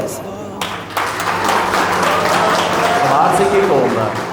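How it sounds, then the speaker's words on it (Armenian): Crowd applause at an engagement celebration, steady clapping that swells after a brief pause, loud and dense, with voices mixed in underneath. "հարսիկի կողմը ծափեր տվեց"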